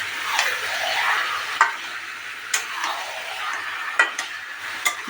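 Chopped tomato and masala stirred with chicken in a pan, a soft sizzle underneath with a spoon scraping and knocking the pan at irregular intervals.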